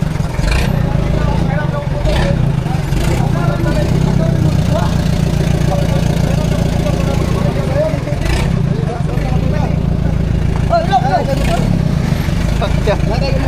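A motorcycle engine idles close by with a steady low rumble throughout, while people talk over it intermittently.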